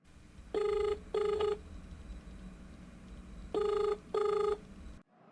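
A telephone rings in two double bursts, each pair of electronic rings loud and close, separated by a quiet pause, with the line cutting to silence at the end.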